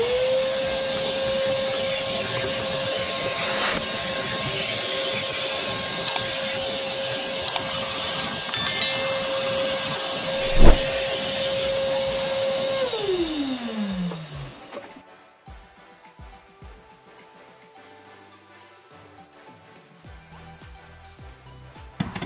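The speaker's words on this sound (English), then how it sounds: "it's important to vacuum out any dirt inside the housing" A vacuum cleaner runs steadily and loudly while cleaning dirt out of the air filter housing of a Volkswagen Golf Mk7, with brief knocks of the nozzle. The motor then winds down and stops, leaving near silence.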